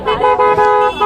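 Car horns toot repeatedly in a traffic jam of autos, cars and two-wheelers, several honks overlapping in a loud, sustained, close blare.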